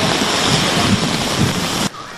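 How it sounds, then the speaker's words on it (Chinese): Heavy downpour during a thunderstorm warning in Taichung, a loud roaring sheet of rain close by that cuts off abruptly near the end; the car alarm and thunder are not clearly distinguishable within the noise. "雨下的又大又急，停在路边的轿车被大雨影响，警报器响个不停"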